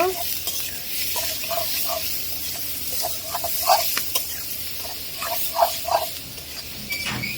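Sliced onions and green chilies fry in hot oil for a fish curry, a soft steady sizzle with intermittent stirring taps and scrapes, fairly quiet and mostly alone with little talk.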